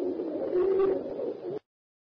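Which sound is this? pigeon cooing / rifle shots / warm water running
pigeon cooing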